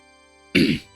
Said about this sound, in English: this fucking cough is gonna be the death of me